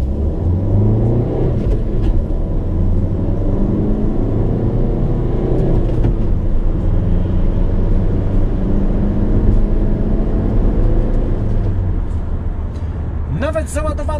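A loaded Renault Kangoo van drives over a rough, unpaved, potholed road, its engine and road noise forming a steady, close rumble throughout, with a brief rattling burst near the end.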